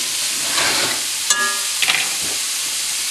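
Beef stew pieces, some with sinew, hit a hot buttered pan and sizzle steadily at close range, with a brief sharp hiss as more meat goes in and a couple of small clatters, no talking.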